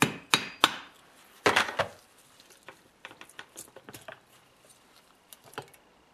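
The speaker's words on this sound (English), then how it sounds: "I'm just going to tap it with a brass hammer lightly." A brass hammer taps lightly on a Stihl 4-MIX leaf blower engine pan, a few sharp clustered knocks early on followed by quieter, scattered taps and small metallic clicks, close and alone.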